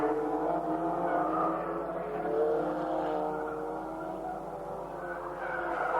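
Production saloon cars from a 1988 championship race, including a BMW and a Rover, roar around a circuit in a steady, continuous engine drone with rising and falling revs as the pack passes, heard without talk.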